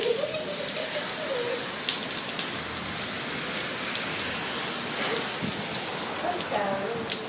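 Steady rain pours down on an outdoor street, a dense continuous hiss with scattered sharper drop hits and faint distant voices now and then.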